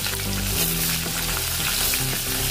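Onion dropped into hot oil already crackling with cumin and mustard seeds, a steady loud sizzle and fry close up with no talking.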